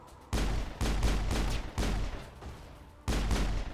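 Pistol fire in Mass Effect 1, several sharp loud bursts of shots in close succession with short pauses, near and without talk.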